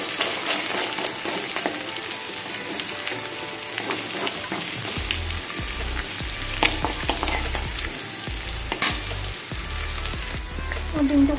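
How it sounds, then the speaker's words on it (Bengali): A double-yolk egg fries in oil in a pan, giving a steady bubbling sizzle with a deeper rumble joining partway through and occasional sharp spatters and utensil clicks, close and clear. "এখানে যে তেল বেরিয়েছে ওই তেলের মধ্যে আমি ডিমটা ভেজে নেবো।"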